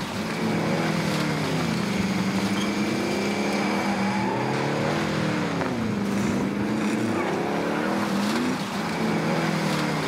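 A truck engine drones steadily in Far Cry 6 gameplay, its pitch rising and falling as the vehicle revs and shifts, loud and continuous with no voices over it.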